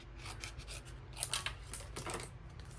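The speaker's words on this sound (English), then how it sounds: "Let's cut it in half." Scissors cutting a strip of washi tape in half, a few quiet crisp snips and rustles heard close up with no talk.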